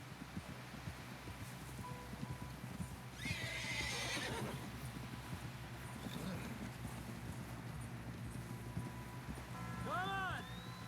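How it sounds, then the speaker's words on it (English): A horse gallops with rapid clip-clopping hooves in a Red Dead Redemption 2 story scene, then gives a loud, sharp whinny near the end, with character voices talking over it. "Someone help John down off this horse"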